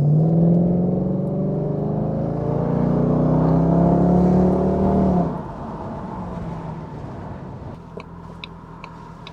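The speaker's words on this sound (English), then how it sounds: "I don't need much of an excuse to go out in my car." A Jaguar V8 engine hums steadily with rising harmonic tones as it accelerates, then settles into a quieter, rougher drone; faint ticking appears near the end.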